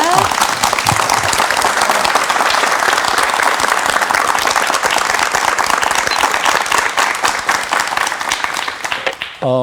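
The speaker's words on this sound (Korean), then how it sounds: "박수로 강의 청해 주시기 바랍니다." Studio audience at a KBS morning talk show applauds steadily and loudly for nearly ten seconds, a dense wash of clapping that fades slightly near the end.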